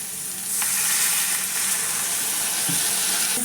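A fish head sizzles steadily in hot oil in a pan, with a broad continuous frying hiss that gets a little louder after the first half second and stays close throughout, with no talking.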